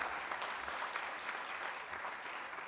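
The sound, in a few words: audience applause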